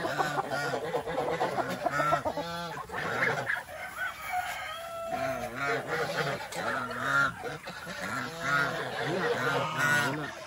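Several farm chickens, hungry and unfed, cluck and squawk close by in a busy, overlapping chorus, with occasional louder honking calls.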